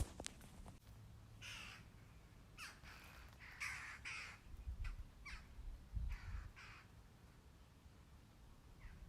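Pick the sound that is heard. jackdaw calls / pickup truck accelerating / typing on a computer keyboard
jackdaw calls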